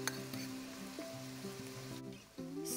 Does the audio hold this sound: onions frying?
yes